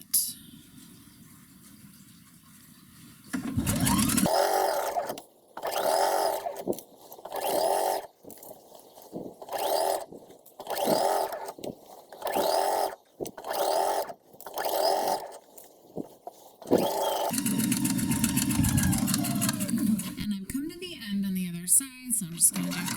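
Home sewing machine stitching bias tape neck binding, running in short regular bursts with pauses between, a few seconds of back stitching near the end, all fairly close and moderate in level.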